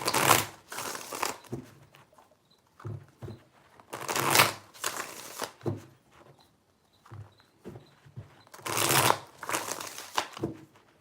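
Tarot cards are shuffled close by in three distinct bursts of crisp riffling and flapping, separated by quieter gaps of soft handling and light tapping, with no voices.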